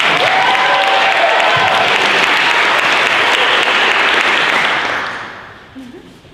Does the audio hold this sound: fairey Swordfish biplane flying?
no